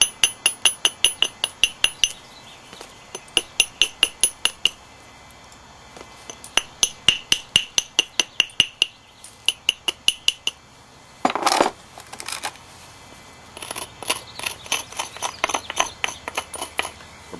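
Novaculite laurel leaf point being flintknapped, its edge abraded and small flakes ground away: rapid bursts of sharp, close stone-on-stone scrapes and clicks in rhythmic runs, with brief pauses and one longer grinding rasp.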